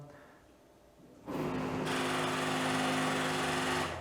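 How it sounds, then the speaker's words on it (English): A mechanical whirring buzz starts abruptly after a quiet moment and continues steadily, a malfunctioning 3D printer droning with a rough, grinding texture. "that was my 3D printer being strange"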